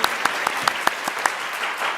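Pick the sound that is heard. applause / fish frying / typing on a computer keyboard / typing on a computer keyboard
applause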